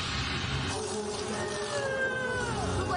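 Bees buzz loudly from a falling beehive in an animated movie, a dense continuous drone with wavering, sliding whines close by.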